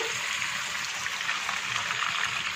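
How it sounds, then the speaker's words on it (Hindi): Water poured into a pot of ground onion and spice paste while cooking nihari, a steady close trickle and splash lasting a few seconds with no talk. "वन फोर्थ का पानी इसमें डाल दिया हिला के शामिल कर देंगे"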